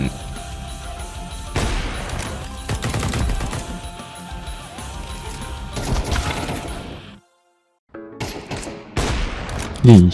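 Rapid bursts of gunfire in Counter-Strike 2, loud and dense for about seven seconds, then a short silence before more shots and impacts return, with a voice speaking briefly.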